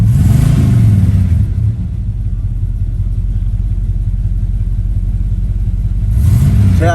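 A 1979 Chevrolet Camaro Z28 with a carburetted engine roars loudly up close, revving hard at first, settling into a deep rumbling idle, then climbing again into another rev near the end.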